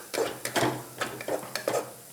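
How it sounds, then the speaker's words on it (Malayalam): A spoon stirs chili powder into a thick paste in a pan, with several scraping strokes in an uneven rhythm, close and fairly loud, with no talking. "ഓക്കെ, നന്നായി ഇളക്കി കൊടുക്കുക."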